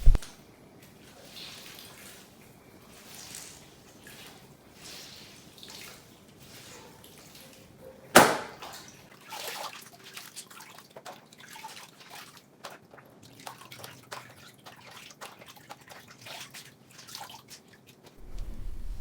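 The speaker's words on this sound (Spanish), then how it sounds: "lo que hago es quitar todo el exceso de agua al cartón, apretando muy fuerte con las manos" Wet cardboard that has soaked for an hour in a glue mix, squeezed hard by hand: close drips and trickles of water falling into a basin, plus one sharp knock partway through, with no talking.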